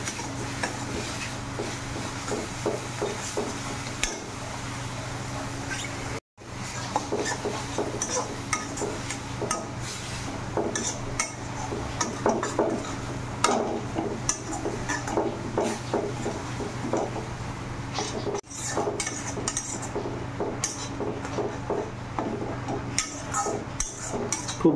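Spice masala with turmeric, salt, onion, ginger and garlic is stirred and fried in a pot: a low continuous sizzle under repeated scraping and clinking of a spoon against metal, steady for the whole stretch.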